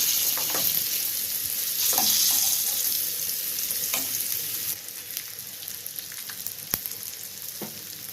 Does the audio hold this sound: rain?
no